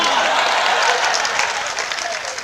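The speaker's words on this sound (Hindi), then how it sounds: "तालियां बहुत कम बज गई" An audience at a sermon by Acharya Shri Vidyasagar ji claps in a dense, steady burst of applause that fills the whole stretch and tapers slightly toward the end.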